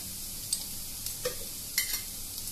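Kashmiri chilli powder, ground cumin and turmeric fry in oil in a pan, giving a steady close hiss of sizzling with a few soft scraping stirs over two and a half seconds.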